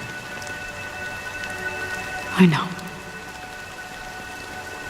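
Rain falls steadily in the Honkai Star Rail game world, a constant soft hiss, with a brief spoken voice near the middle.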